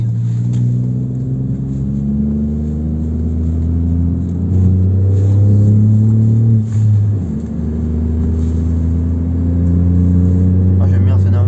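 A 2019 Ford Fiesta ST Line with a stage 1 tune to 150 hp accelerates, its engine note climbing steadily through the gears with a loud, continuous rumble and rising pitch, heard from inside the car.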